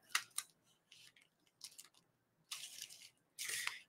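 Scissors cutting craft material along a marked line for Halloween decorations: a series of close, crisp snipping cuts, short ones at first and then longer continuous slices, with quiet pauses between.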